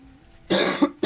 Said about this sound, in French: J'adore tousser.